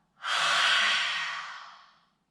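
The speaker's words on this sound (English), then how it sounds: "imagine you're fogging up a mirror or a window. So just sigh the breath out." A single open-mouthed sighing exhale, like fogging up a mirror during a yoga breathing exercise, a breathy hiss of about two seconds that swells quickly and fades gently, close and clear with no talking.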